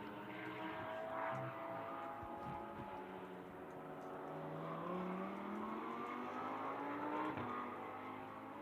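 A GT4 race car in a racing game runs down the long back straight of Motorland Aragon, its engine droning steadily with rising and falling pitch, fairly faint and continuous, with no talk over it.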